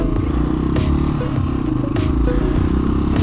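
A Honda XL 500 R motorcycle engine idles roughly and unevenly close by, a steady loud pulsing thump with irregular clattering over it, no talk.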